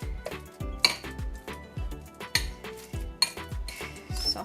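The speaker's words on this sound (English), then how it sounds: "so you just mix it with a fork" A fork mixing banana bread batter in a bowl, with repeated clinks and scrapes against the sides in an uneven rhythm, close and clear with no voices.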